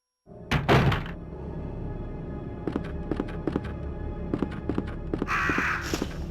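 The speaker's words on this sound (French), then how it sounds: "Voilà, c'est les corbeaux." Crows cawing in the survival-horror game Resident Evil 2 on PlayStation, several short harsh caws spaced irregularly over a steady ambient game background, with a louder burst of noise at the start and end.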